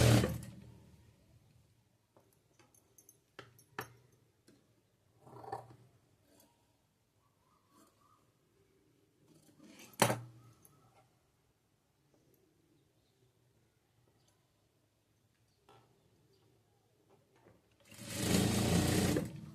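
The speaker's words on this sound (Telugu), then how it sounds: "ఇలా హోల్ చేసి అయితే నేను కుట్టు వేస్తున్నాను" A sewing machine stitching the hem of a frock-style nighty, with short bursts of stitching separated by quiet pauses and faint handling sounds, then one longer, louder run near the end.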